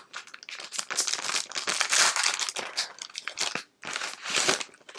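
Crinkly packaging around fall embellishments is unwrapped by hand, with close, bursty crackling and crumpling that comes in quick uneven handfuls and briefly pauses once.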